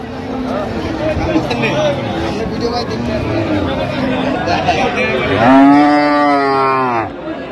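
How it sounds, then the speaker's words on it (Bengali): A cow mooing loudly at a busy rural cattle market where cows with calves are sold, one long low call rising over steady crowd chatter and bargaining voices near the end. "গাভী বাছুর।"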